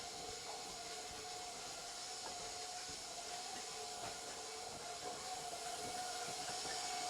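An electric mixer beats carrot cake batter with a steady, even motor whir and hiss that runs unbroken throughout, fairly quiet, with no one speaking.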